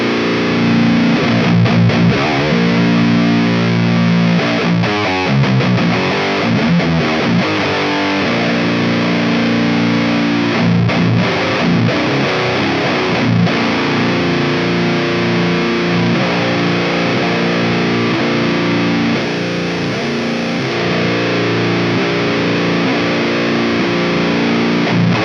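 Heavily distorted electric guitar plays thick, gritty chords and riffs continuously, loud and close, with no voices.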